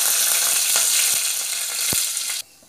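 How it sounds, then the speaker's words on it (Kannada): Mustard seeds and curry leaves sizzle in hot oil for a tempering, a loud, dense, continuous hiss with a few sharp pops and a soft clack before it suddenly cuts off. "ಎಣ್ಣೆ ಪಾಡ್ಗ ಒಗ್ಗರ್ನೆಗ್ ಒಂಚೂರು ದಾಸೆನ್ ಪಾಡ್ಗ ಒಗ್ಗರ್ನೆಗ್ ಮತ್ತು ಕರಿಬೇವು ಪಾಡ್ಗ"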